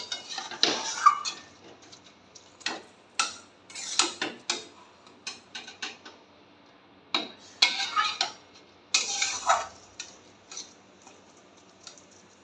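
A metal spatula clatters and scrapes against a pan while stirring leafy greens and banana stem, with intermittent bursts of clinks and scrapes separated by brief pauses, close and fairly clear, no talk.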